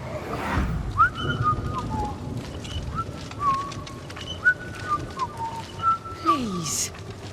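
A person whistles a wandering tune in the video game Banishers: Ghosts of New Eden, short rising and falling phrases repeated over a quiet, rumbling ambient bed, with faint breathy noises between notes.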